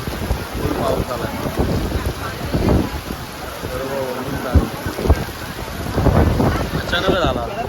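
Sudden heavy rain pours on a beach in the evening, a dense hiss of rain and gusty wind with a roaring backdrop, while people talk and shout over it.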